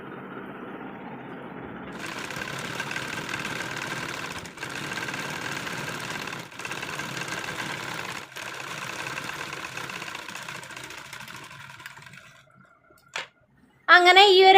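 A home sewing machine runs in steady bursts, stitching along a folded fabric edge, a close mechanical whir with a few brief pauses and short noises near the end.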